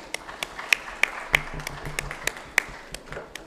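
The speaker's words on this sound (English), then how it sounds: "A big round of applause" Scattered hand claps from an audience at an education summit felicitation ceremony in Chandigarh, a dozen or so sharp separate claps spread over a few seconds over a low background hum, fairly sparse rather than full applause.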